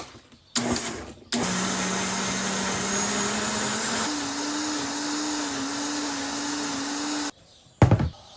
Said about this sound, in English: Then slowly increase the speed to high and blend on high for at least 1 full minute.